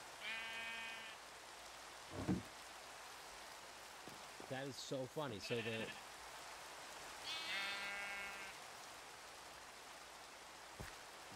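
Sheep in a video game bleat in a couple of drawn-out calls, with steady rain in the background and a player talking and laughing between them.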